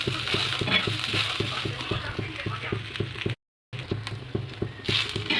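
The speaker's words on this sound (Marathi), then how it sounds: "कांदा भाजायला पण आपल्याला लगभग 4 ते 5 मिनिटं लागतात" Chopped onion roasting and being stirred in a pan for a Marathwada-style spicy vadi curry, giving a steady close sizzle with a regular scraping patter of the spoon and a brief dropout midway.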